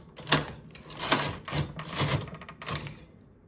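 A knitting machine carriage swept back and forth across the needle bed knitting rows of a lace pattern, several close mechanical whooshing and clattering passes in an uneven rhythm, with no talking.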